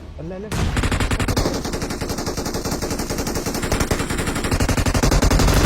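Sustained automatic SCAR-L rifle fire in the mobile battle-royale game PUBG Mobile, a loud continuous rapid rattle of shots filling nearly the whole stretch after a brief quiet start.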